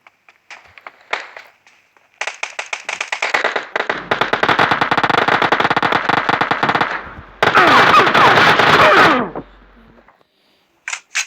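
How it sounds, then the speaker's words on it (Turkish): Uzi submachine gun fire in a video game: loud, rapid automatic bursts of closely spaced shots, one long sustained string followed by another dense burst, with a few scattered single pops before and after. "Ya nasıl Uzi ile vuruyorum Uzi ile"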